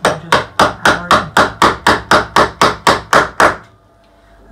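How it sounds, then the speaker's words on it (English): A hammer drives a pin into a wooden picture frame joint, fourteen sharp, evenly spaced blows struck close up in a steady rhythm, then a quiet pause. "make sure they go into the middle of the piece of wood, and just hammer it in"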